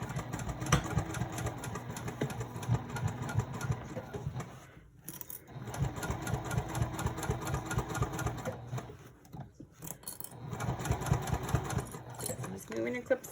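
A sewing machine stitches the top seam of a purse in rapid mechanical bursts, pausing twice between runs, close and fairly loud.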